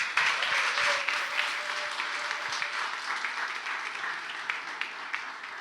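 A church audience applauds after a Bible story reading, steady dense clapping from a crowd that holds evenly throughout, with a faint tone running beneath it.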